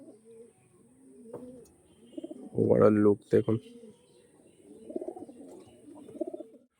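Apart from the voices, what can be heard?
pigeons cooing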